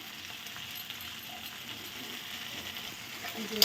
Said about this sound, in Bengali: জিরে বাটাটা দিয়ে আর একটু সুন্দর করে কষিয়ে নেবো